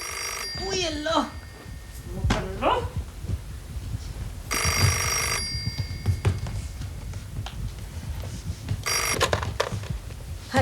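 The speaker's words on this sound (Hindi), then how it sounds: "देखो किसका फोन आ गया इस वक्त।" A telephone rings in short electronic bursts, heard twice at a moderate level between stretches of talking voices in a home.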